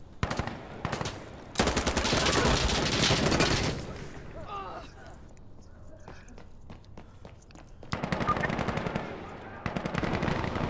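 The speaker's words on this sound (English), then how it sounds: "I have to say, that's at least 3 shots in the chest area" Automatic gunfire in the video game Insurgency Sandstorm comes in loud rapid bursts, a long sustained burst early on, then scattered single shots, footsteps and game sounds, and another rattling burst near the end.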